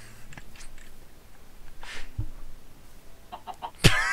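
A chicken in the video game Minecraft gives a few soft, sparse clucks over a quiet background, ending with a louder, sharper squawk.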